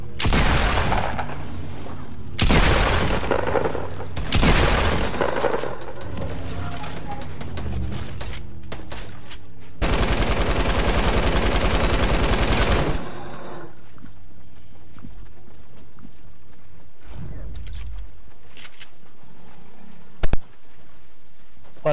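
Several loud bursts of rapid gunfire with sharp reports in Fortnite, separated by pauses, then quieter game sounds and one final sharp crack.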